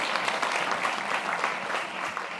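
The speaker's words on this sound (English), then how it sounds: "please, a round of applause to our speakers" Conference audience claps for the speakers, a brisk, dense burst of many hands applauding steadily from start to finish, filling the room without talk.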